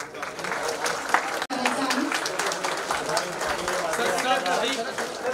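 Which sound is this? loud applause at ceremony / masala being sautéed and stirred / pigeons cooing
loud applause at ceremony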